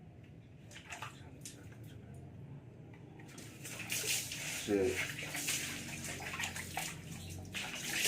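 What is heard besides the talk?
pouring water with dipper while bathing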